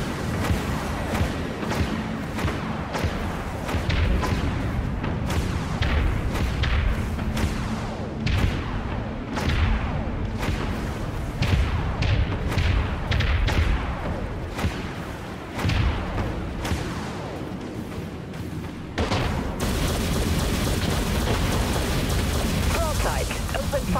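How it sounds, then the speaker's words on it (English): Vulture missiles launch and detonate in the space combat game Dreadnought, a long barrage of heavy thumps, booms and blasts over a constant rumble, with voices speaking intermittently beneath the explosions. "Vulture missiles have a clean shot. Launching vulture missiles."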